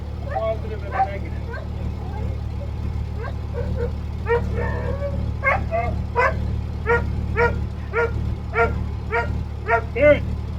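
A puppy barks and yips repeatedly in short, high bursts, growing more frequent toward the end, over a low steady hum of background noise.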